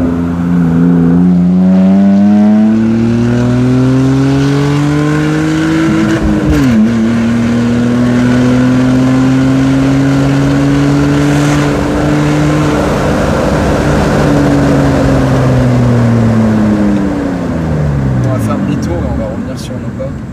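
BMW M5 V10 with a custom stainless steel exhaust accelerating hard, a loud, steady rising engine howl with gear changes, close and continuous for the whole stretch.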